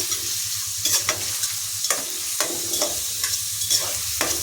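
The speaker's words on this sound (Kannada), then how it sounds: "ಇದ್ರ ಜೊತೆಗೇ ಈರುಳ್ಳಿನ ಸೇರಿಸ್ಕೊಂಡು ಚೆನ್ನಾಗಿ ಹುರ್ಕೋಬೇಕಾಗುತ್ತೆ" Sliced onions and broken Guntur chilies frying in hot oil for a moringa-leaf egg palya, stirred with a spatula in rhythmic scraping strokes over a steady sizzle, close and alone.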